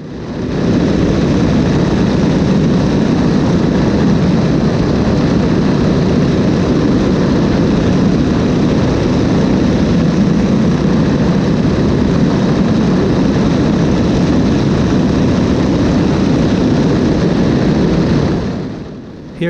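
A Stearman biplane engine drones loudly and steadily through open cockpit aerobatics, a continuous propeller roar that holds for nearly twenty seconds before cutting off at the end.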